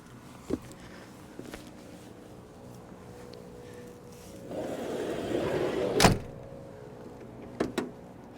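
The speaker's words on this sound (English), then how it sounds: "Soft close sliding door, so you don't have to slam it all the way." A soft-close sliding door on a 1998 Toyota Hiace Turbo Diesel 4WD van rolls along with a low mechanical hum, then shuts with a soft thud; a few faint clicks follow afterward, nearby and without talking.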